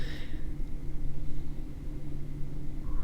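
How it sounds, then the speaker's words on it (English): Road traffic outside reaches a microphone as a low, continuous rumble and hiss with no distinct vehicles standing out, faint and steady throughout. "it's probably a lot of traffic noise"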